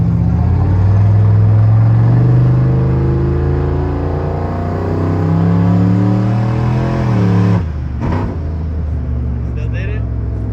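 A single-turbo 5.3 Chevrolet Silverado pickup accelerates hard on a pull, a loud close engine roar climbing in pitch through several gear steps for about seven seconds before cutting off sharply, followed by faint turbo whistle and quieter engine sound.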